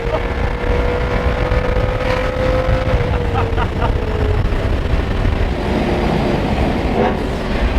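Loud, steady roar from a supercharged BMW E92 M3 under hard driving, with a faint tonal whine sliding slowly downward, heard from inside the car throughout.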